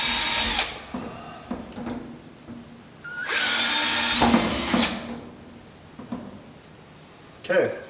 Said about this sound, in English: We've drilled holes.